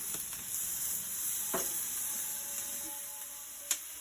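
Thai red marinated pork sizzles quietly on a barbecue grill in a soft, steady crackle, with a few faint clicks and one sharp tick near the end.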